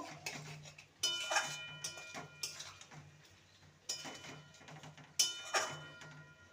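Fried egg bhujia stirred into a pointed gourd curry in a pan, heard as repeated close metallic scrapes and clacks of a spatula against the pan in uneven bursts, with no talk.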